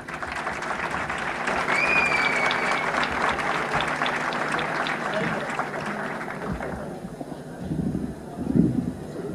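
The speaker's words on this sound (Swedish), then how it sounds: "Med ett jättevarm applåd vill jag presentera våra vänner Svante Lundgren" Warm audience applause at a Swedish Akitu stage event as guests are introduced, steady clapping of a large crowd that fills most of the clip, thinning toward the end where a voice begins speaking.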